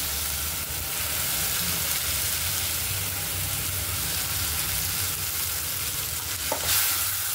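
Onion and tomato paste masala sizzles steadily in a pan for dum aloo, a continuous close frying hiss with soft stirring and a brief clink near the end, no voices.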